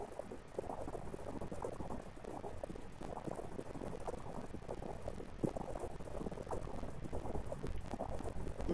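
Underwater swimming in the game Island Tribes gives a steady, bubbling, churning liquid wash at low volume, continuous throughout with no talking.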